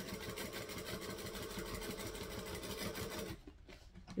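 A sewing machine back stitching piping runs in a fast steady mechanical whir close by, then stops abruptly near the end.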